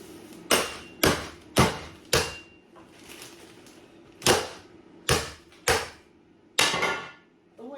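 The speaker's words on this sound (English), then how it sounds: "I've crushed the ice, and I'm going to, oh, that needs a bit more banging." Ice being crushed for a cocktail in a home kitchen, struck with sharp, heavy bangs, about nine hard knocks in an uneven rhythm with short pauses, close and loud with no talking.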